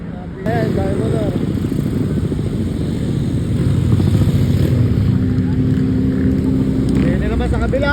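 A motorcycle engine passing on a street at night, loud and close, with a steady roar that swells slightly midway amid street noise.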